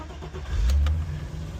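Engine of a BMW E30 convertible cranking and catching on a cold 14-degree day, a short low rumble swelling then settling into idle, close and alone.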